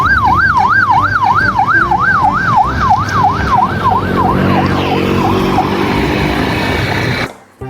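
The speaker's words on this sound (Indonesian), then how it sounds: "Yang ini ada mobil ambulans." A toy ambulance gives out a fast, oscillating electronic siren that is loud and near, then fades and stops abruptly at the end.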